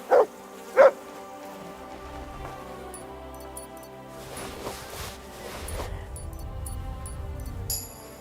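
A dog in the video game Kingdom Come: Deliverance II gives two sharp, loud barks right at the start, then fades into a quiet ambient wash with soft rain-like patter.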